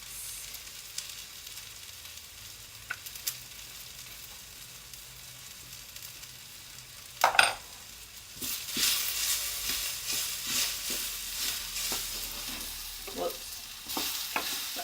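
Almonds toasting in an overly hot pan: a faint, sparse clicking and scraping at first, then a sudden stir and a louder steady sizzle with intermittent stirring knocks, close by and without talk.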